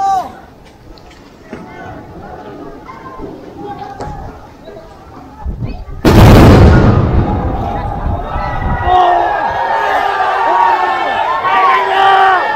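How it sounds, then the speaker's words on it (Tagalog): A sudden loud explosion bursts during a riot clash between protesters and police in Ayala, then a roaring crowd and shouting voices continue after it. "Biglang sumabog."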